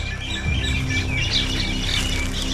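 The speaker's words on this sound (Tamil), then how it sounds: "குருவி சவுண்டு கேட்குதா?" Sparrows chirp in a deep forest, bright repeated tweets scattered over a steady low background hum, fairly close and continuous throughout.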